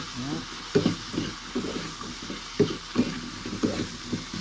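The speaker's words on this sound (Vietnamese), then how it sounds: "Nói chung là xào cho nó tới" Jicama (củ đậu) stir-fried with pork belly in a pan, with repeated scraping stirs over a steady low sizzle, fairly close and moderately loud.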